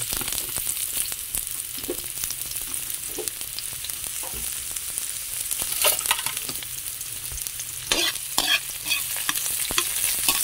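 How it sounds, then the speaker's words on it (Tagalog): Onion and ginger sizzling steadily in a hot pan while being stirred, with a constant bright frying hiss and scattered scraping stir sounds, close and with no talk. "ilagay na natin ang ating sibuyas at kaluya"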